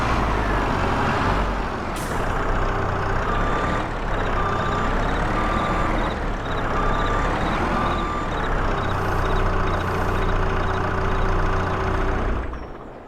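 Skid steer being driven and parked in Farming Simulator 22, a loud diesel engine rumble with a sharp air-release hiss and recurring warning tones, ending as the engine cuts off.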